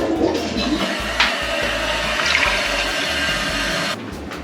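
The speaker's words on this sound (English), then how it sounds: "I don't see any water, but let me flush." A hotel room toilet flushes in one sustained, close rush of water for about four seconds, then cuts off abruptly, with no one speaking.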